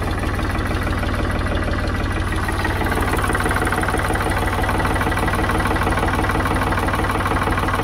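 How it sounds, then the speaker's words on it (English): A Ford 3000 tractor engine runs with a bit of throttle, a loud, steady, close rumble with a fine rhythmic knock that holds unchanged throughout, with no talking. "I think I've got the starter working now, so a bit of throttle."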